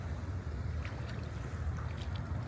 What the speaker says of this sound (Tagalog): Yan na ulit, magkakaalon na kasi dadaan yung boat.